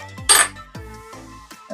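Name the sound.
green onion added to frying fried rice in pan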